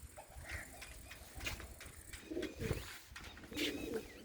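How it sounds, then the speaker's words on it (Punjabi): Pigeons coo softly on a rooftop in faint, scattered low calls at a slight distance, with light background noise and no talk. "ਉੱਪਰ ਵਾਲੀ ਛੱਤ ਉੱਪਰ ਵੀ ਕਬੂਤਰ ਬਹੁਤ ਨੇ"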